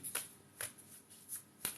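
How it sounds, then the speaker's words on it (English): Moon oracle cards are shuffled by hand in a quiet room, giving four or five soft, papery riffles at irregular intervals. "Let's shuffle these moon cards."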